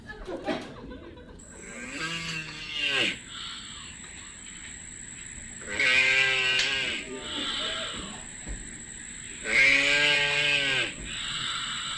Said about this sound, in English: No, that's a turtle. Okay. Or sorry, it is a tortoise.